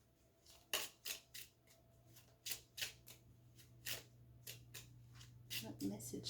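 Tarot cards shuffled gently by hand, a run of soft, quick riffling bursts and papery flicks in irregular rhythm, close and quiet, with a voice speaking softly between them.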